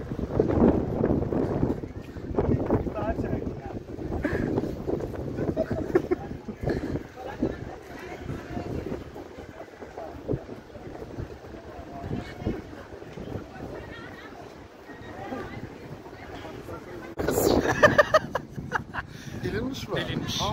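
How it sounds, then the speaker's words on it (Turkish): Strong wind buffeting the microphone in a steady roar, with people talking over it and a gust growing louder near the end. "Oo, çok rüzgar geldi ya."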